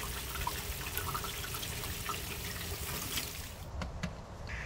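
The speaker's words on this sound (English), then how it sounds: "Even more water is splashing out, going all over the ground right along your foundation wall." Steady rushing and splashing water as rain pours out of a gutter onto the ground along a house's foundation wall, continuous and fairly close.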